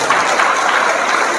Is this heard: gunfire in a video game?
no